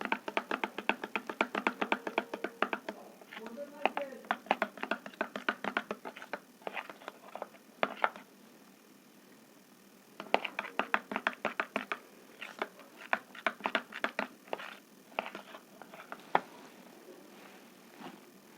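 Liquid detergent being stirred in a container with a tool, giving close, irregular clicking and tapping knocks in bursts, with a pause in the middle before the stirring resumes.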